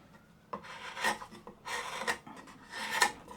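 A hand-plane blade, a traditional-thickness Hock blade with a concave grind, is rubbed bevel down across a sharpening stone freehand in three close, gritty rasping strokes with short pauses between them.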